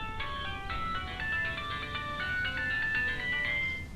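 A mobile phone ringtone in the video game American Arcadia, a bright melodic electronic tune of quick repeating notes playing clearly and steadily for the full four seconds.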